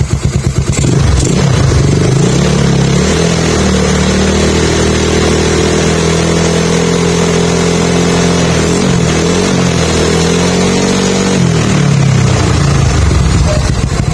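A Yamaha Mio Sporty scooter, being checked for a battery that keeps losing charge, revs loudly up close, its engine drone rising and falling in pitch through sustained revs before dropping back toward idle.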